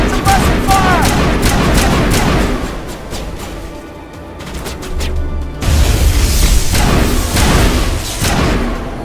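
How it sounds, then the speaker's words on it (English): Rapid bursts of sci-fi gunfire from the Mass Effect video game crackle in dense volleys with heavy thuds, easing briefly into a lull before loud fire resumes, all over a constant rumbling game soundscape. "Suppressing fire."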